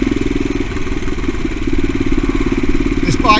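A CCM Blackout motorcycle riding along a pitted road, its engine giving a steady, close, throbbing drone that runs through the whole stretch.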